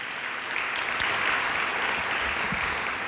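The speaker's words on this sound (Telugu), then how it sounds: "చప్పట్లు కొడదాం అందరూ గట్టిగా" Church congregation clapping loudly together at a special prayer meeting, a dense steady wash of many hands lasting the whole stretch without talk.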